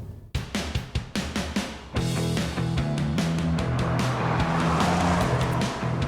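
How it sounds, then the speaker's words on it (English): An Audi S1 with a 2.0 TFSI turbocharged four-cylinder engine drives hard, with a run of sharp revving bursts and tire noise giving way to a sustained loud engine drone. "The turbocharged 4-putter has plenty of grunt and is on song from the start"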